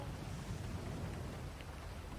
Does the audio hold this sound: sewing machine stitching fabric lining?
no